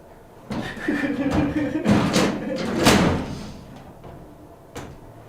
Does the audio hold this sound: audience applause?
no